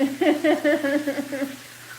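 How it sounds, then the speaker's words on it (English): Hamburgers and cheddar brats fry on a cooking surface, a brief close sizzle with a faint tonal hum underneath. "we're cooking some hamburgers and cheddar brats right now"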